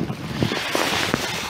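Wind blows steadily and loudly outdoors among fig trees during an April frost, buffeting the microphone with a rough, gusty rush and no talking.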